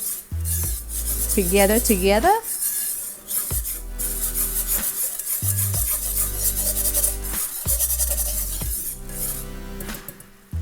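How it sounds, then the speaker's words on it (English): A whisk stirs flour into melted butter in a pan while making a souffléed broccoli casserole, giving steady, close scraping and rubbing over background music, with a brief spoken word. "And we are going to whisk this"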